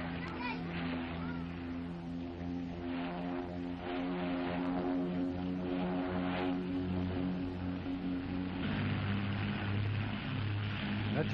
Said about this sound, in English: Your brother's plane?